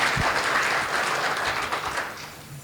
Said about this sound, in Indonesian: Tepuk tangan untuk para panitia dan rekan semua.